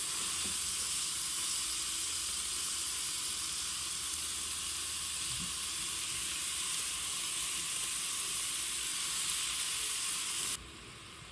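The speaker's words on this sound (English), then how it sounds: "We'll go ahead and start cooking our beef." Ground beef sizzles in a pan while it cooks for stuffed bell peppers. The hiss is steady, loud and close, and it runs unbroken through the whole stretch with no one talking.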